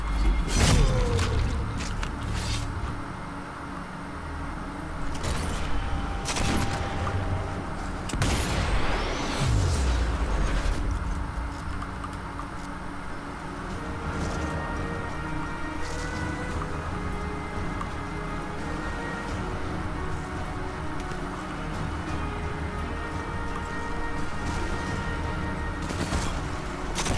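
Submachine gun fire in Sniper Elite 4 crackles in dense bursts over a loud, steady battlefield din, with thuds and distant rattling shots throughout.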